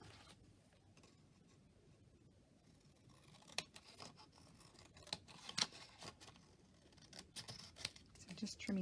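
Scissors snip and trim paper for a paper snippet roll craft, with scattered close crisp cuts that grow busier toward the end, under faint quiet background.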